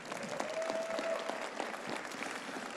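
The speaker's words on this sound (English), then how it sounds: "please a big round of applause" An audience at the Mr. Olympia 2023 press conference gives a steady round of applause. The clapping is even and sustained for the whole moment, with no talk over it.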